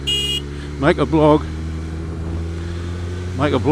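A motorcycle hums along at a steady cruise, its engine drone low and constant beneath a rider's intermittent close talk.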